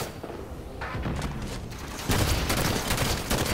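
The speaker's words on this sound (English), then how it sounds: "Why are they shooting me?" Sustained gunfire in a Halo match rattles on as a dense, continuous barrage that swells louder partway through, with no speech.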